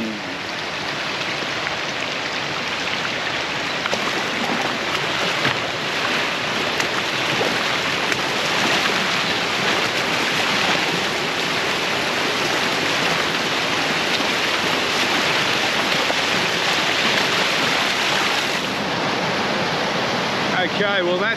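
Steady, dense rushing water flows without pause, a broad wash of noise close by, like a fast creek running over rocks.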